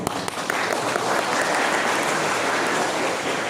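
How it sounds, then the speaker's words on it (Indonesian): Audience at a Halal Bi Halal gathering of the PSHT Tebo branch claps steadily, a dense, even wash of applause that holds at full strength for several seconds. "Alhamdulillah, tepuk tangan dong"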